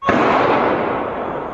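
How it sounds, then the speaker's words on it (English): Sharp blast of gunfire on the streets of Paris at night, a single loud, close crack that rings out and decays into a long, noisy tail of echo. "Chaos on the streets of Paris tonight, gunfire ringing out"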